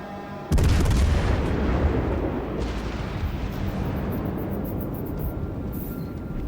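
Naval guns fire high-explosive shells at battleships in World of Warships Legends, opening with a sudden heavy boom that rolls into a sustained rumbling roar of gunfire and explosions.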